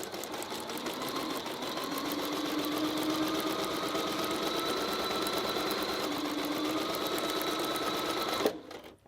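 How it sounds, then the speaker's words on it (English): A sewing machine stitches quilt fabric for a paper-pieced block, running in one steady, fast, close hum for about eight seconds before it stops abruptly. "I'm going to sew all the way from the dotted edge onto the solid line"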